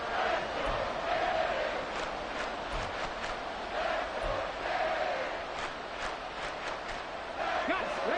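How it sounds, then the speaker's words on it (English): A football stadium crowd roars in a steady, loud wash of cheering and shouting, with an announcer speaking over it. "Crowd on their feet."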